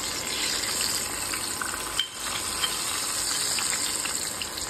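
Onion frying in oil with fenugreek and black cumin seeds for a homemade herbal hair oil gives off a steady, dense hiss and sizzle, close and continuous, with a brief stir midway.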